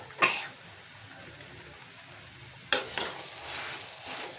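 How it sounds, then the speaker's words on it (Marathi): A spoon stirs a mashed potato and spice filling for aloo paratha in a pan, giving two short scraping bursts a couple of seconds apart, the second trailing into softer rustling, close and fairly quiet. "मसाले आणि बटाटा बघू शकता, पूर्ण एकजीव झालेला आहे"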